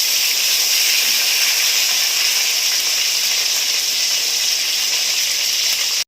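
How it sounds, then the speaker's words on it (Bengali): Pointed gourds (potol) fry in hot oil with a steady, bright sizzling hiss that stays close and even from start to finish, with no talking. "পটলগুলো আমি উল্টে দিলাম। এই দেখেন এই পাশ ভাজা হয়ে গেছে, এবার এই পাশটা ভাজা হবে।"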